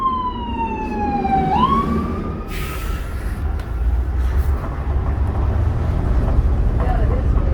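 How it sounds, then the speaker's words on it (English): A fire engine siren wails up from behind a Calgary Transit bus in winter, its sweeping tone sliding then fading under the bus engine's rumble and road noise, with brief talk nearby. "There's a fire engine coming up behind me."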